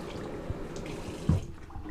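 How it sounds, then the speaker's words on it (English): Warm water runs from a tap over an EnviroCloth microfiber cleaning cloth as it is wetted. The flow is a steady close splash with a brief louder slosh near the end, and no voices. "you're just going to get it wet in warm water"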